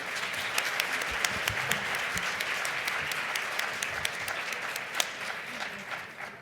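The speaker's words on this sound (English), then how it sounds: "join me in a round of applause for our panelists this afternoon" A conference audience applauds panelists at the end of a plenary session, a steady, fairly distant round of many hands clapping that carries on evenly for several seconds with a few sharper claps standing out.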